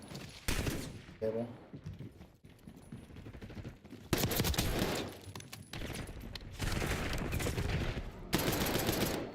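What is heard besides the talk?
gunshots shooting objects in a video game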